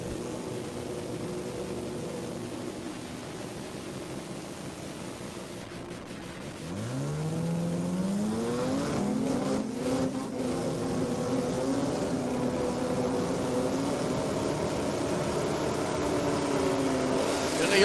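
Drag race cars, a Toyota Starlet against a Datsun, at a drag strip event: engine noise builds from a steady drone into rising, revving harmonic sweeps as the cars stage, loud and continuous with crowd ambience.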